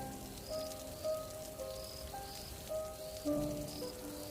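Rain falls steadily at night, a soft, even patter heard faintly with a few thin tonal sounds drifting above it.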